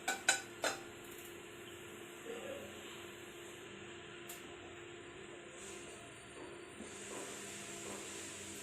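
A few metallic clanks as a pan is set down on a stove, followed by a steady soft hiss.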